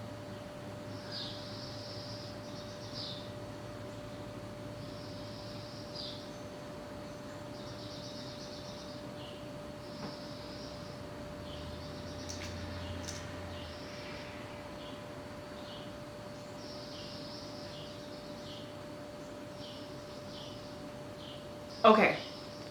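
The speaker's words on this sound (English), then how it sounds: "those birds sound real nice right now" Birds sing outside in short, high chirping phrases that repeat every second or so. They sound faint and distant against a quiet background, with one brief louder bump near the end.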